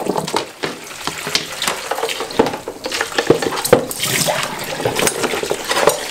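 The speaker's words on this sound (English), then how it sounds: "So we'll just give this a rinse out." A beekeeping wash bucket is rinsed out with water, splashing and sloshing in irregular bursts with light clunks of the bucket, close by and without talk.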